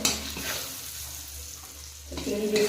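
Prawns frying in a pan give a steady sizzle with light stirring, strongest at the start and again near the end, with a brief dip in between and no voices.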